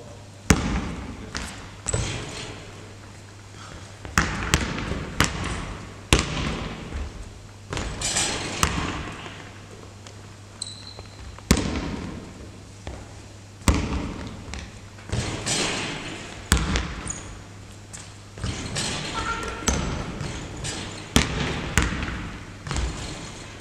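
A basketball bouncing and thudding repeatedly on an indoor court as shots are taken, with irregular loud impacts and echoing reverberation, and occasional voices.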